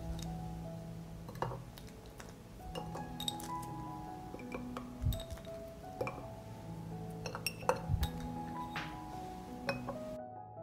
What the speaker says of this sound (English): I add garlic to the jars